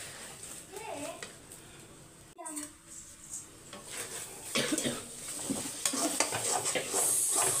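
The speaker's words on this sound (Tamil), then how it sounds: "சிம்மில் வச்சு மிக்ஸ் பண்ணிக்கோங்க, நல்லா உதிரியாக வரணும்." Fish curry masala with sardines and raw mango being stirred in a pan over a low flame: soft scraping of a spoon against the pan with a quiet sizzle, growing busier toward the end, with a voice speaking at times.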